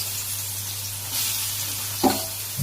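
Soybeans coated with salt, turmeric and chili powder drop into hot oil in a village kitchen, the steady sizzle swelling into a louder hiss, with a couple of clinks from a utensil.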